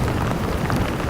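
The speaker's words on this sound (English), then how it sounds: "the rain's picking up a little bit" Steady rain pours down outdoors on a fishing trip, a dense continuous hiss of drops hitting surfaces close by, loud and even throughout with no voices.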